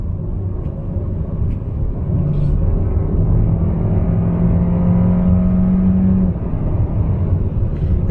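A 2021 Kia K5 with a 1.6 liter turbocharged engine and eight-speed transmission rumbles through a couple of downshifts, a steady low drone with a rising engine tone in the middle, heard from inside the car.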